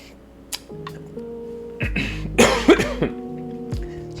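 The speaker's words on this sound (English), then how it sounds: "I'm still working my way through a cough." A man coughs a few times, loud and close, with throat clearing in a quiet room, without speech.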